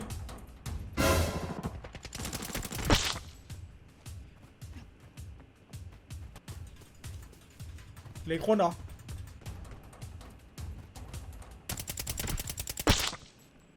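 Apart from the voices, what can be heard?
AK rifle gunfire in a video game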